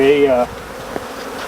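Saskatraz honey bees buzz at a Flow Hive 2 Plus, a close droning hum that is loudest at first and then fades to a softer background buzz.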